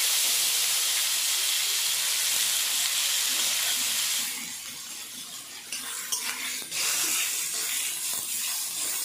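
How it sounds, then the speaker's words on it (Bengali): Thin-cut potatoes fry in hot oil with a loud, steady hiss and sizzle that eases partway through, then swells again with faint crackles and stirring. "তেল গরম হয়ে গেছে। প্রথমে আমি কেটে রাখা আলুগুলো দিয়ে দিই।"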